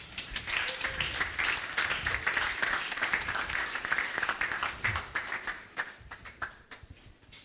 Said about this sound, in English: To kickstart the event, give a round of applause for Mr. Patrick Okigbo III.